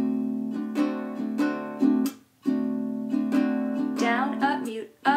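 Baritone ukulele strumming a bluesy pattern over dominant seventh chords, close and clear, with rhythmic down-up strokes and muted chops breaking the rhythm, played alone.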